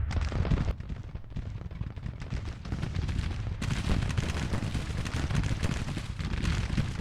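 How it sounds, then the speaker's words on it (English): Artillery fire in Grand Tactician: The Civil War, a dense rumble of overlapping booms and crackling shots that runs without a break and grows sharper and fuller about halfway through. "Our guns are firing."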